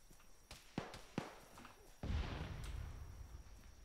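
Artillery fire in a tactical military video game lands as a heavy low boom that rumbles and lingers, following a few sharp cracks of gunfire, all fairly close.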